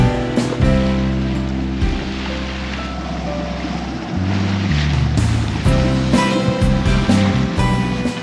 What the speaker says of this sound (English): the reason it's so choppy is because wind against tide